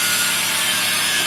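A CNC tube-cutting machine moves its axes to the part load position, with a loud, steady mechanical whir and hiss that holds constant throughout the short stretch.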